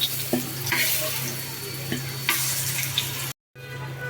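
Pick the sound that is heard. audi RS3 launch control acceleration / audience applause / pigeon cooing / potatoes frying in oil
potatoes frying in oil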